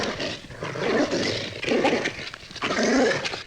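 A dog growls low and rumbling in three sustained bursts, close and loud, with throaty snarling edges and no clear barks.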